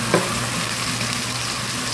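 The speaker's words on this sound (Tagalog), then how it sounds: "tayinin po natin maluto yung sibuyas" Red onion sautéing in a pan for home-style chicken tinola, giving a steady, loud sizzle and crackle of frying throughout, with no voices.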